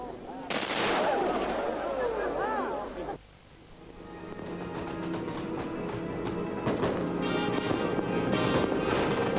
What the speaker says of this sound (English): you join us in the middle of what is a truly spectacular firework display